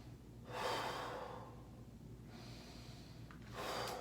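Deep, slow breaths during a yoga triangle pose: a long close inhale, a softer drawn-out exhale, then another inhale starting, airy and intimate with quiet gaps and no talking.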